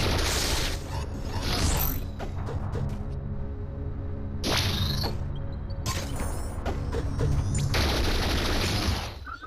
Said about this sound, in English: The turret killed us in a single hit.